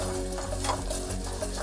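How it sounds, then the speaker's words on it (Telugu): Moong dal fries in ghee for aval payasam, a continuous close sizzle with faint stirring taps and scrapes over a steady low hum. "ఈ పెసరపప్పు నెయ్యిలో వేయించుకుందాం"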